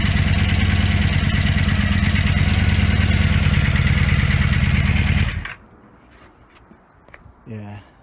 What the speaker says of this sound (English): Very slight ticking from this engine